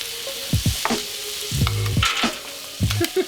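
Onions tossed into a hot pan for beef stroganoff, sizzling loudly in bursts with scraping and clattering of a utensil against the pan, up close with no talking.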